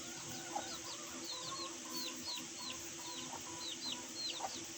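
Chickens cluck softly outdoors in humid weather, a steady scatter of short, quick clucks and chirps repeating over a faint background hum, fairly quiet and with no talk.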